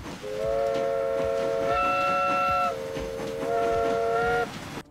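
A steam locomotive in the Transport Fever 2 railway game sounds a long, loud multi-tone whistle, held steady, briefly changing pitch, then sounding again over the low rumble of the running train.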